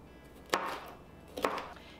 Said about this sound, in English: We'll chop up our green pepper.